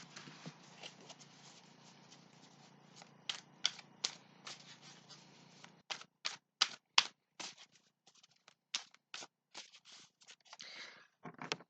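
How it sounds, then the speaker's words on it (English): A deck of playing cards being cut and shuffled up close, with a steady soft riffle for several seconds followed by a run of crisp separate slaps and snaps as the cards are handled. "just cutting the cards now"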